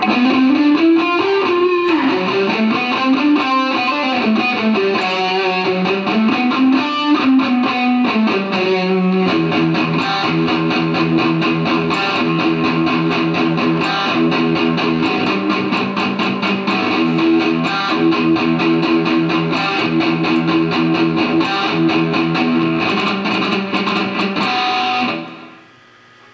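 Palm-muted electric guitar plays a melodic distorted line, tight chugging notes in a continuous loud riff that fades out at the end, no talking.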